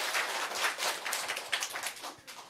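Audience applause in a hall, a steady wash of many hands clapping throughout with no voices over it.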